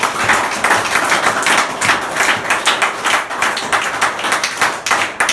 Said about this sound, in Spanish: Ese aplauso sea para Jesús.